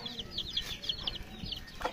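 A hen clucks beside her chicks, a quick run of repeated short clucks close by, with a few rustles and thumps around them.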